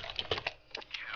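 Quick bursts of computer keyboard typing during a CS:GO session, a handful of close, light key clicks over about a second.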